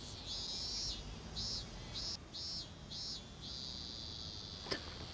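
Cicadas in an Evangelion anime scene shrill in a steady high buzz that pulses in short repeated bursts and then holds one long drone over faint background hiss, with no voices.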